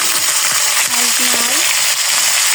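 Potatoes and green chilies frying in hot oil for a vegetarian curry, giving a steady close sizzle with a few faint clinks and light stirring, and no talking.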